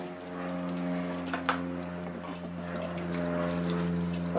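Fuel poured into a jar while checking a fuel filter for sand contamination, a steady liquid stream running under a constant low machine hum for several seconds.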